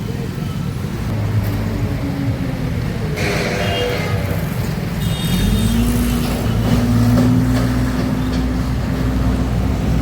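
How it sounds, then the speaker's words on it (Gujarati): A steady line of four-wheelers streams along a road in heavy Sunday afternoon traffic: a continuous, fairly close roar of engines and tyres, swelling slightly as vehicles pass, with no gaps between them. "જો 4 વ્હીલની લાઈન છે સતત એકધારી, ટ્રાફિક જ એવડું હોય."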